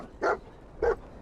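Dog in the video game Fallout 4 giving two short, close barks about half a second apart over quiet background.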